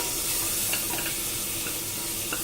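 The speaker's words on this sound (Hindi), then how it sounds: "इसको भूनेंगे, टमाटर को नरम होने तक भूनेंगे।" Tomatoes with turmeric, coriander and chili powder frying in a pan for chole, a steady close sizzle with light stirring scrapes throughout, no talking.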